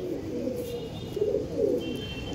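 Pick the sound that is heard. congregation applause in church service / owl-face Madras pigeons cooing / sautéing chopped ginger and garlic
owl-face Madras pigeons cooing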